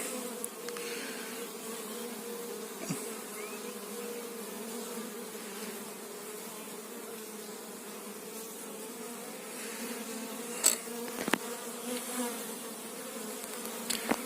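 A steady, dense drone of many honeybees buzzing together at a hive in an apiary, continuous and fairly close, with a few brief louder passes near the end.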